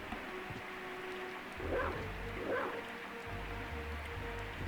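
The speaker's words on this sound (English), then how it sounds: "Pressing R2 lets you transform into a dog." In Castlevania: Symphony of the Night, a character transforms into a wolf, giving two short dog-like barks or yips over steady game music and ambience.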